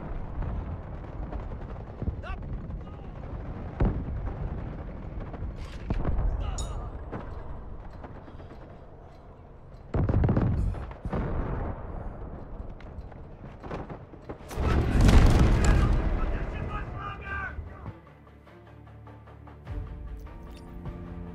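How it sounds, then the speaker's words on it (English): Artillery barrage in a war video game: a run of loud booming blasts and rumbling impacts, with big bursts around the middle and a heavy one near the end, mixed with clattering effects and game noise. "Artillery ready for barrage."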